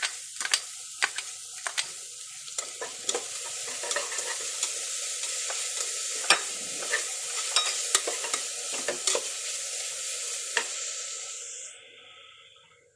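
Crushed ginger, garlic and a slit green chilli sizzle in hot oil in a pan for chicken shorba, a steady close hiss broken by repeated sharp stirring scrapes, fading at the end.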